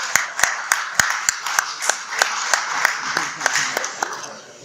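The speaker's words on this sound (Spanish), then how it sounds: "Un aplauso al niño." An audience claps for a child with sparse, evenly spaced hand claps in a moderately sized room, fading slightly toward the end over low background murmur.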